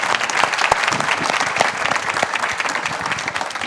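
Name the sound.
audience applause for presenters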